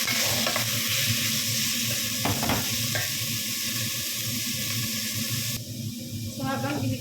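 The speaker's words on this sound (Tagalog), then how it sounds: "So, habang inigisa natin yung ating chicken" Chicken sautéing in a pan gives a steady, close frying sizzle with stirring scrapes throughout, and a brief lull near the end.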